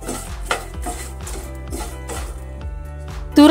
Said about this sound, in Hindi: मखाने को हम कंटिन्यूसली उस मसाले में मिक्स करेंगे।